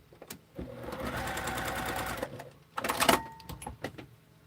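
A sewing machine runs in two bursts while a quilt is being stitched, the first a steady whirring run of about two seconds and the second a shorter, louder stretch, with brief clicks and pauses between them.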